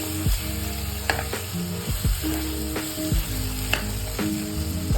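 Tomato masala sizzling in a pan for an aloo tamatar bhaji, with a spoon scraping through it in a steady rhythm of repeated strokes, close and continuous, no voices.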